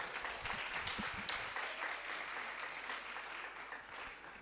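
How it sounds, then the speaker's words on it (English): Steady applause from an audience at a secondary school debate competition, continuous clapping filling the room at an even level before tapering slightly. "Please give him a round of applause"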